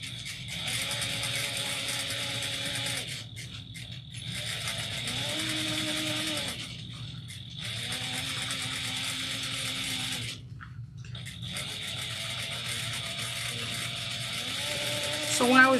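A sewing machine runs top stitching at a one-eighth-inch seam allowance in quick, steady bursts of whirring, with short pauses between runs as the fabric is repositioned.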